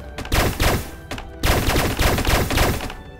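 Rapid enemy gunfire in the video game Starbound, repeated bursts of shots in quick succession, loud and dense with no talking.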